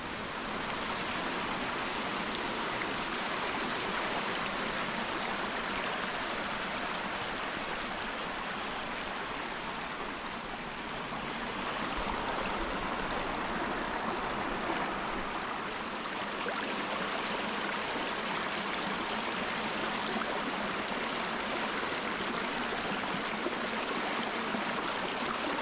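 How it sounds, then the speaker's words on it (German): Rain-swollen stream on a hiking trail near the Silbermühle in the Eggegebirge, a continuous loud rushing and gurgling of water that stays steady throughout, with no speech. "Da es in den letzten Tagen hier ordentlich geregnet hat, ist hier natürlich eine Menge Wasser unterwegs."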